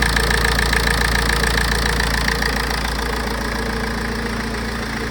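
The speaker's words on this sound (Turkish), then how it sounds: "Tak diye çalışıyor. Bak motor düğümleme şey yok." Ford Connect van engine idling smoothly without knocking, a steady, close mechanical hum and whir that settles slightly quieter toward the end, with no voices.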